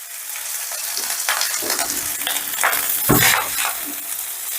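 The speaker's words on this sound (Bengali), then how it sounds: "এবার রাইসটা ভেজিটেবলের সঙ্গে বেশ ভালো করে মিশিয়ে নিচ্ছি" Cooked rice being mixed with vegetables in a hot pan for veg pulao, loud close stirring with scraping and shuffling over a soft sizzle, building to a heavier scrape near the end.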